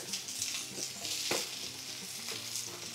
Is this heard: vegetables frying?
yes